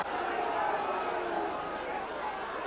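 Football crowd at a 1981 VFL match roaring and cheering a goal, a broad, steady wash of distant voices with a commentator talking over it.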